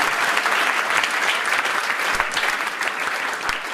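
A church congregation claps loudly and continuously to acclaim God during a worship service, a dense crowd applause filling the room from start to finish with no single voice standing out.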